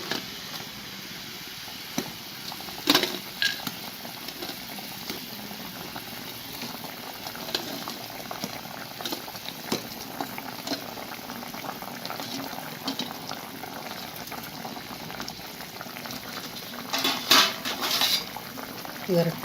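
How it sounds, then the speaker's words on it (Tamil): Sugar syrup bubbles and crackles at a steady boil in a pan, with small pops and the occasional clink of a utensil, no voices over it. "இது ஒரு 2 or 3 மினிட்ஸ் நல்லா கொதிக்க வச்சுட்டு ஆஃப் பண்ணி ஊற வச்சிடலாம்."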